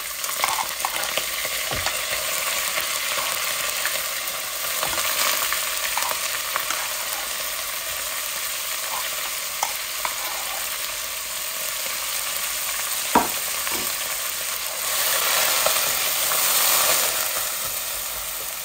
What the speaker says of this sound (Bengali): এখন আমি গ্রেট করে অনিয়ন দিব